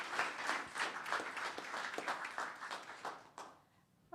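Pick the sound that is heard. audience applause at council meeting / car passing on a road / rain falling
audience applause at council meeting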